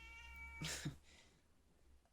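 A cat gives a short meow, followed by a fainter second cry, with a quiet low hum in the background.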